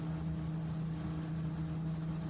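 Engine of the Raptor prototype aircraft in flight, held at about 70% throttle while circling and climbing, gives a steady droning hum with a strong low tone and airy wind noise, constant and unbroken throughout.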